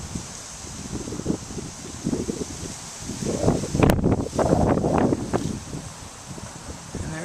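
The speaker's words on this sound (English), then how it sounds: "Man, it's windy today." Gusty wind buffeting the microphone outdoors, rumbling and rustling, building stronger in the second half before easing off.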